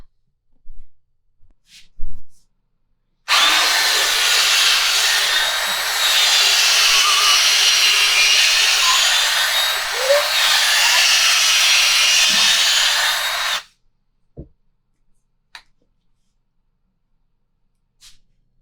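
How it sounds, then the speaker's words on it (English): A power tool reams out an EVA foam cross-cut foregrip for a custom fishing rod, a steady, loud whirring grind lasting about ten seconds, framed by quiet handling clicks before and after. "now that we have the EVA foam crosscut foregrip bored out or reamed out"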